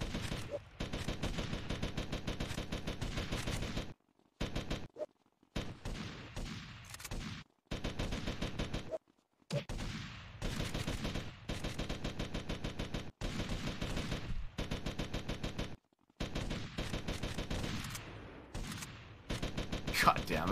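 Sustained, loud automatic gunfire during a mass shooting in Grand Theft Auto: Vice City, dense rapid bursts broken by a few brief silences across the whole stretch.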